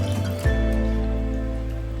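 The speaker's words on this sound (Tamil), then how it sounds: "கொஞ்சமாக நான் தண்ணியும் சேர்க்குறேன்" Water poured into liver curry cooking in a pot. A splash begins and settles into a steady trickling fill under a constant kitchen hum, close and fairly loud.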